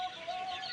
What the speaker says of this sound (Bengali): এই যে আমার মুরগি